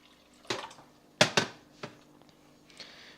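Water splashes into a boiling pot in several short, uneven pours and drips, close by, with brief splashy bursts and quiet gaps in a home kitchen.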